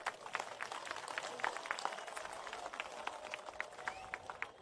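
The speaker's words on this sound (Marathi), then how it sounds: "त्यांच्यासाठी एक मोठा टाळ्यांचा गडगडाट होऊन जाऊ देत" An audience at a public gathering claps in a faint, scattered patter of many hands that continues steadily, heard from a distance.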